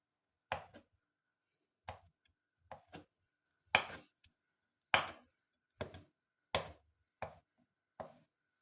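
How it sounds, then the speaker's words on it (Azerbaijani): A knife chops a boiled egg into pieces on a board for crab salad, nine sharp separate knocks spaced about a second apart, close and otherwise quiet. "Yumurtamızı bir neçə hissəyə bölüb beləcə 4 künc doğrayırıq."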